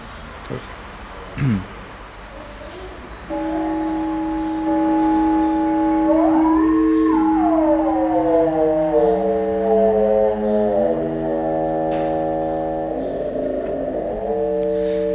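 Oscillators in the VCV Rack virtual modular synthesizer, one modulating another, produce sustained electronic tones whose harmonics slide and sweep in pitch. They start after a few seconds of quiet room sound and keep going steadily to the end.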